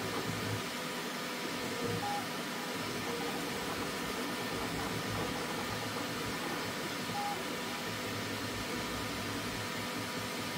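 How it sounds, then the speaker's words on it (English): Auxiliary cooling fans on a 3D printer run steadily and fairly loud, a continuous broadband whoosh with a low hum that holds unchanged throughout, with no talk. "I have the auxiliary fans running, so they're pretty loud."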